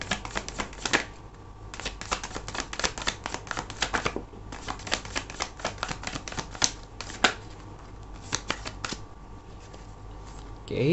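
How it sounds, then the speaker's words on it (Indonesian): Tarot deck shuffled by hand in a long run of crisp, rapid riffling and flicking bursts with short pauses between, close and fairly loud, no voices. "Aku akan ambil total 10 kartu dan kita juga akan lihat bottom of the deck-nya."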